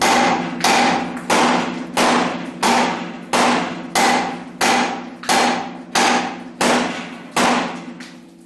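Sharp metal-on-metal hammer strikes on the lower control arm of a 1976 Corvette, about a dozen evenly spaced blows, loud and close, each with a short ringing decay.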